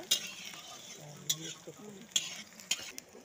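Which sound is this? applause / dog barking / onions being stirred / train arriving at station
onions being stirred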